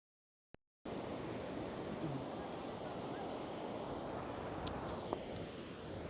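Surf rolls in on Vodarevu beach near Chirala, a broad, steady wash of waves and wind filling the air after a brief click and a moment of silence.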